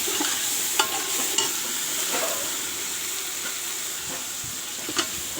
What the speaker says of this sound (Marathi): अद्रक लसूण पेस्ट टाकला त्याला छान असं फ्राय करूया